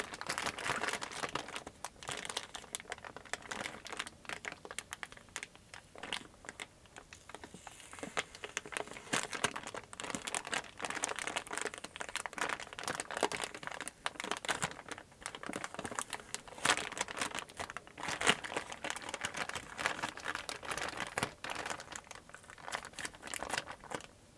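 Continuous close crinkling and tearing as yellow tape and packaging are pulled off a sealed PS2 Slim controller, dense rustles with no pauses.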